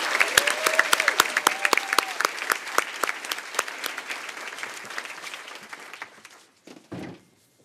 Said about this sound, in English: Please join me in another round of applause for these 6 nominees